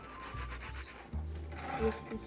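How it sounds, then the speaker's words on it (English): Crumbs are rubbed off the cut edge of a graham cracker roof piece for a gingerbread-style cabin, making a soft, close, dry scraping and rubbing that runs steadily throughout. "we can rub the crumbs to make it even better"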